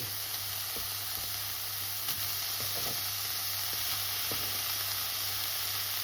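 Finely cut bacon fries in a pan with a steady, moderate sizzle, broken by occasional small pops and spatula taps over a low, constant hum.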